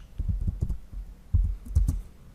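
Keys clack in quick bursts as a command is typed into a PowerShell prompt, two short runs of close, fairly loud strokes separated by a brief pause, with no talking.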